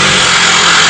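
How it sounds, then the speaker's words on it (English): An electric jackhammer works at an archaeological excavation, producing a loud, dense, continuous mechanical roar that fills the whole second without a break. "As you hear the electric jackhammer"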